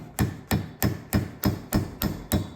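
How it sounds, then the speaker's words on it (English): A hammer taps an axe head down onto its handle while hanging a vintage double-bit axe: seven loud, close strikes in an even rhythm, each ringing briefly before the next. "once it's in there, you can really start hammering it home here."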